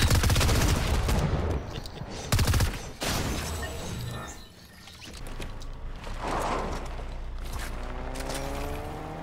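A shotgun with a wide spread blasts in bursts in Fortnite zero-build duos, loud, close shots with a mechanical rattle between them and a quieter stretch in the middle.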